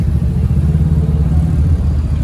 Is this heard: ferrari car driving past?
yes